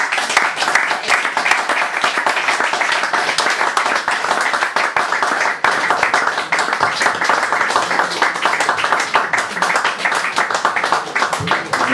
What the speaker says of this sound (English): More applause, please, for Eve.